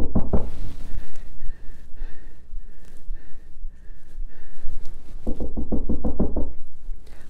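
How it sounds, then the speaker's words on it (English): Knocks on a house door come in two clusters of quick, loud raps, one at the start and another rapid series near the end, with a steady background murmur between them. "I went up and knocked at the door."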